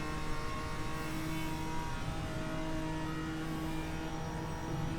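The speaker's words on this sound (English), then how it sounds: "There's a faster car approaching." Race car engines at Bathurst in a racing game, a steady droning roar of a car at speed with a second engine tone building as a faster car closes in, continuous with no talk.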